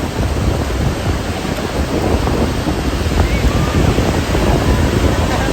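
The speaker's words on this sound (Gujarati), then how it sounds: "મોટી મોટી લહેરો આવી રહી છે." Big sea waves crash on a Saurashtra shore in Gujarat, a loud continuous roar of surf mixed with heavy wind buffeting the microphone, with no talk.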